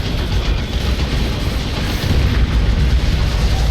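A grenade explodes in a Warhammer 40,000: Dawn of War II Retribution battle: a loud, continuous, rumbling blast with heavy low-end booms that roll on without a break.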